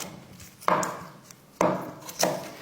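A knife slices an onion lengthwise on a cutting board, three sharp, close cuts at irregular intervals, each a crisp crunch ending in a knock on the board, with no voices.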